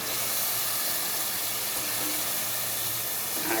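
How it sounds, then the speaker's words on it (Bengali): Small fish fry lightly in a pan for a sour fish dish, an even, moderate hiss that holds steady without breaks and swells slightly at the very end, with no speech. "এই যে দেখেন আমি একদম হালকা ভাজা করছি।"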